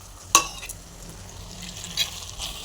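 Chilli, coriander and turmeric powders stirred and roasted in a pan for a fish curry, with two sharp scrapes of a spoon against the pan over a soft background sizzle, no talking.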